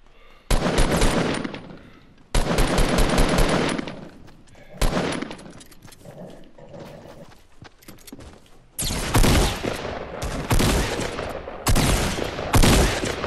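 Bursts of automatic gunfire in Fortnite, loud and close, coming in several long rapid volleys separated by brief quieter gaps, with a few sparse shots between them.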